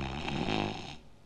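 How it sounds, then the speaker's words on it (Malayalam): A single drawn-out snore from a sleeping man, close and rough, fading at the end. "ഇദ്ദേഹത്തിന്റെ കൂർക്കമ്മലിക്ക് തന്നെ ഒരു സംഗീതമുണ്ടെന്ന് തോന്നുന്നു"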